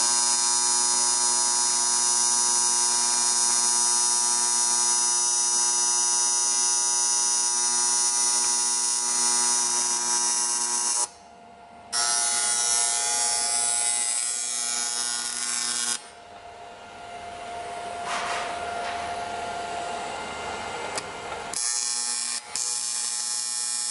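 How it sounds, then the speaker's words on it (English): A welder joins a fitting during a 3.8 turbo installation on a Copart Genesis. A steady, dense buzz runs close and loud, breaking off briefly a few times before resuming. "the master welder will come into the play and start welding"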